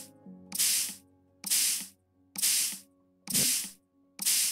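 Spray bottle in a dinosaur fossil lab during cleaning, giving five loud, even hissing bursts about a second apart with short quiet gaps and no talk.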